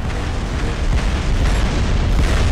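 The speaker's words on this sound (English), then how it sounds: "Backflip over the explosion!" A dense, rumbling explosion roars continuously in the motorbike game Trials Fusion, loud and sustained for a couple of seconds with no speech over it.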